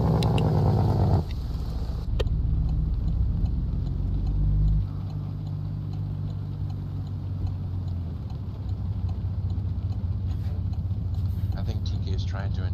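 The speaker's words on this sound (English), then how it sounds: "Yeah, I got an engine sound mod." A modded truck engine in American Truck Simulator gives a steady, loud, low rumble. Its pitch drops after about a second and settles lower again near five seconds.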